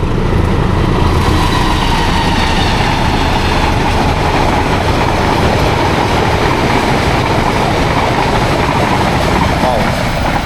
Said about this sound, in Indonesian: Bentar, kita lihat kereta dulu.